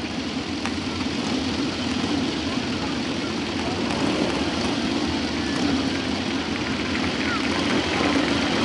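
A motorcycle engine drones steadily as the bike leans through corners during an arena display ride at a country fair, a continuous low hum under a commentator's talk and open-air ambience.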